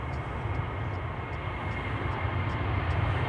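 An airliner departing Amsterdam Schiphol for Bilbao on runway 09 gives a steady, broad engine roar that holds throughout at moderate distance.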